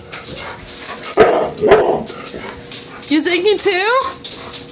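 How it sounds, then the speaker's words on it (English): Dogs bark and let out high, wavering whimpers and whines close by, while a person talks over them. "Dogs are drinking tonight. They're going crazy."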